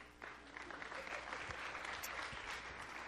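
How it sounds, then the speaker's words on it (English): An audience claps steadily for a few seconds, a dense wash of many hands heard from nearby, with no voices on top. "So, clap loudly."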